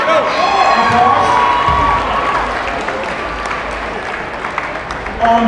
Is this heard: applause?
yes